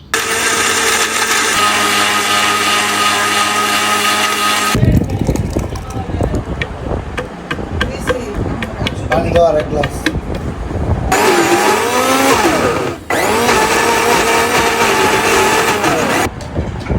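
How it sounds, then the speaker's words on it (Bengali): A kitchen blender grinds coconut into milk, its loud, close motor whine running in two long bursts separated by a stretch of mixed clatter and noise. "এখানে প্রথমেই নারকেলটাকে দুধ করে নেওয়া হচ্ছে ব্লেন্ডারের সাহায্যে।"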